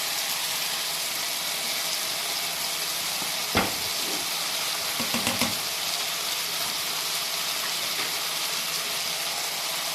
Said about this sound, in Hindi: अभी साथ में हम ये सारे स्पाइसेस ऐड कर देंगे, गरम मसाला, सूर्ख मिर्च और हल्दी।